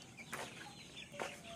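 Young chicks and chickens in a large poultry shed give faint soft clucks and two short peeping calls, distant and sparse over quiet background.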